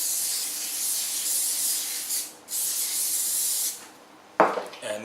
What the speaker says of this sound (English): just give it another spray with that olive oil